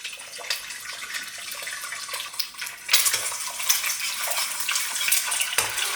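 Egg being scrambled in a hot pan for soy sauce fried rice, with a utensil scraping and clinking against the pan over a soft frying hiss, steady and close.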